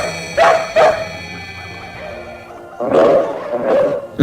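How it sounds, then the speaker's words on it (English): Dogs relay the twilight bark across London and nearby villages at night, heard as repeated loud barks in two bursts, a pair early and a cluster later, with yips in between. "We'll use the twilight bark to alert all the dogs in London and in the villages nearby."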